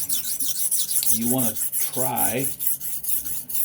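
A knife blade scrapes back and forth across a sharpening stone in steady rhythmic strokes, close and clear, while someone briefly speaks in the middle.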